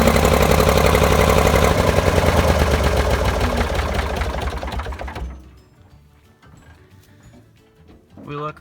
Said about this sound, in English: we can turn the tractor on and see